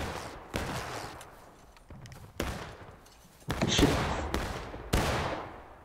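Musket volleys in the video game War of Rights, about six sharp shots cracking out at irregular intervals, each trailing off into a long echoing decay, some closer and louder than others, with no voices.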